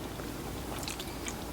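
A spoonful of chili with jalapenos being bitten and chewed in a close taste test, soft wet mouth and crunch sounds over a steady low background hum, with no talking.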